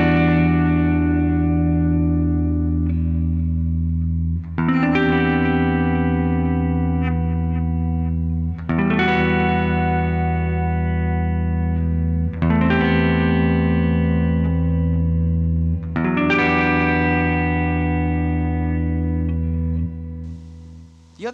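A reduced arrangement of a progressive metal riff, played with a distorted, effects-laden tone, sounds as a series of sustained chords struck about every four seconds, each ringing out loud and alone.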